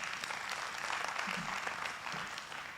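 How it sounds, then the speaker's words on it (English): A round of applause for Absa from the audience at a women-in-transport empowerment event in Mpumalanga, a steady wash of clapping that runs throughout at moderate level. "Another round of applause for Absa"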